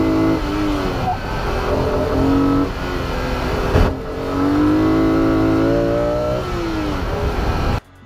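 A BMW car engine revs hard to 8,000 RPM, climbing to a high-pitched wail, easing off briefly before rising again, loud and close, then cutting off abruptly.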